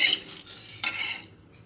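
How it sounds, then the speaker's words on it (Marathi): Dry fruits roast in a dry pan, stirred with a utensil in two brisk scraping strokes over a faint hiss, close and fairly loud, with no talk. "असं खमंग भाजून घ्यायचे आहेत."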